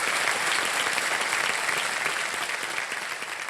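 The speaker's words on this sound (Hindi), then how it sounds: "बहुत बहुत तालियां बज जाएं इनके लिए" Dense, sustained applause from a large studio audience on a televised quiz show fills the whole stretch, loud and steady with no voices on top.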